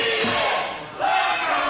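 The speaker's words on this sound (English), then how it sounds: "A split crowd here tonight at the FSW Arena" Wrestling arena crowd at the FSW Arena cheering and roaring steadily, a dense wash of many voices that dips briefly midway then swells back loud.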